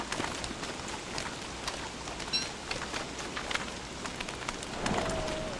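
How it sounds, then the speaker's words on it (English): Rain in the video game Don't Starve Together makes a soft, steady patter with scattered drops, faint and continuous under the game's ambient sounds. "the rain is less now, but it isn't stopped"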